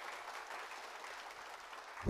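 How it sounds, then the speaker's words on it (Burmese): An audience at a presentation applauds a guest being introduced, a dense, even patter of many hands clapping that continues throughout at moderate distance. "ကိုစမ်းမင်းအတွက်လက်ခုပ်တန်ကြဲကြဲလေးကြားကြပါတယ်"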